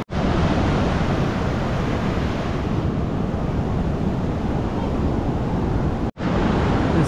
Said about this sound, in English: the tide keeps coming up higher and higher